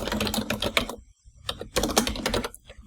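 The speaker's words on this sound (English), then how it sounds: "So here then we'll just type in some text." Text being typed on a computer keyboard, with close, rapid bursts of key clicks, a brief pause near the middle, then another quick flurry of taps.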